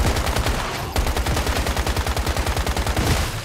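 Rapid, uneven automatic gunfire from a weapon in the survival shooter Once Human, loud and close, a dense rattling burst with a brief gap near the one-second mark before firing resumes steadily.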